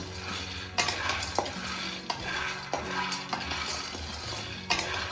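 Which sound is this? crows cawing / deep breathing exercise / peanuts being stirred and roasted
peanuts being stirred and roasted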